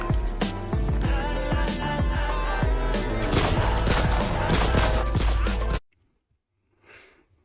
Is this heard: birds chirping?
no